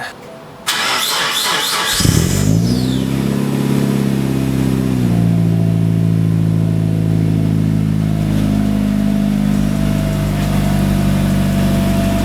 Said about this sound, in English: Cold start, Dan, for the boys.